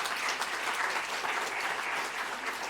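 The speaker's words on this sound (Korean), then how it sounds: "여러분들 격려의 박수 한번 하겠습니다" Church congregation applauding during a Sunday worship service, a steady, even patter of many hands clapping, moderately distant and sustained throughout.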